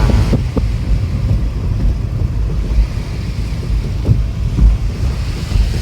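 Ocean waves roll steadily onto a beach in Japan while wind buffets the microphone, producing a constant loud rumble with no voices.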